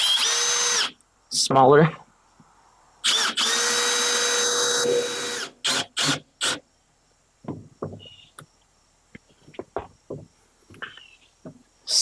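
A power drill drives cabinet screws into a pull-out van bed, with several short whirring bursts close up, some longer runs, and scattered clicks and handling noises. Someone speaks briefly between bursts.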